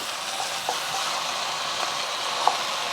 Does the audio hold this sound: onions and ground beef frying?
yes